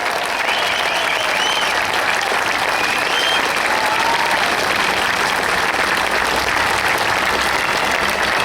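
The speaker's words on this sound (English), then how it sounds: "Give them a cheer back, that's it." Outdoor crowd in Sheffield applauding and cheering to send off local athletes a month before the 2012 London Olympics, dense continuous clapping holding steady and loud throughout.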